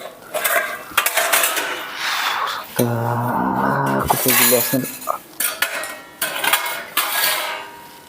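Metal pots, pans and cutlery clatter loudly in a domestic setting, with several sharp crashes and jangling clinks close by, mixed with voices talking over and between them.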